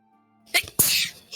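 A single sneeze heard up close: a quick sharp intake, then a loud, explosive burst that trails off, with a brief vocal sound after it.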